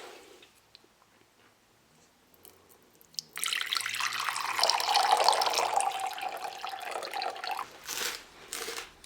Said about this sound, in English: what I'm going to do is add a bit of warm water.